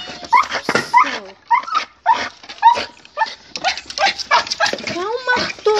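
A Yorkshire terrier yips, barks and whimpers excitedly at a rat, in rapid uneven bursts close by, while a voice repeatedly talks over it.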